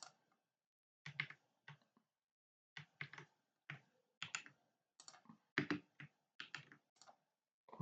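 Computer keyboard keys pressed in short clustered bursts of crisp clicks for copy-and-paste shortcuts during database replication work, close and clear, separated by brief silences, with no talking.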